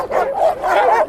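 East Siberian Laika hunting dogs bark and yelp at a republican hunting-laika show in Yakutia, close and loud, in two tonal, drawn-out bursts.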